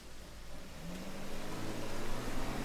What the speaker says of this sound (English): Michelle activated her car's remote start